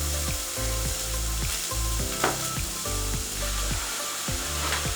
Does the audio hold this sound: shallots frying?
yes